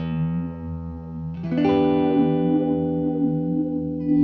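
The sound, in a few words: vibe pedal with negative feedback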